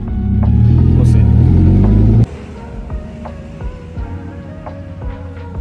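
A Mazda Miata engine revs loud and close for about two seconds, a dense rising rumble that cuts off sharply, leaving a quieter idle with faint clicks and light sounds behind it.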